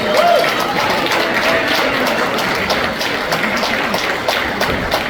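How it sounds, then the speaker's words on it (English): A room of guests at a company Thanksgiving appreciation dinner claps together in steady, dense applause that holds at an even level throughout. "I just want everyone to give a huge round of applause for this incredible group of people"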